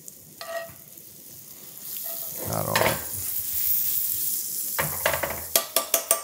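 Chopped onion hitting browned butter in a pan for Swedish meatballs, a steady close sizzle and fry with stirring scrapes, ending in a few sharp clacks of a utensil on the pan, with a brief spoken word.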